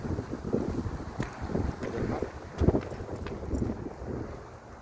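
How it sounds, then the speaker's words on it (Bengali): Strong wind off the sea at a seaside spot in Kuwait buffets the microphone in a steady rushing roar, with gusty swells and a few sharper bumps, no talking. "কি সুন্দর হাওয়া, হাওয়া চলছে, অনেক সুন্দর হাওয়া।"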